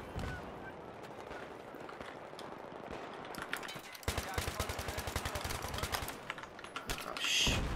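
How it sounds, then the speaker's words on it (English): Rapid gunfire in the video game Battlefield 3, heard as fast, rhythmic cracking bursts over a steady noisy background, fairly faint overall and growing denser partway through. "Who is shooting me from over there?"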